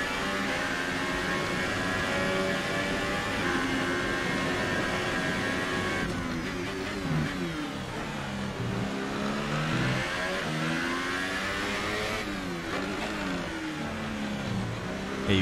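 A Formula 1 race car in a racing video game on the Baku street circuit revs hard through the gears, its engine note rising and falling in repeated sweeps and sputtering as it chokes under braking, loud and continuous.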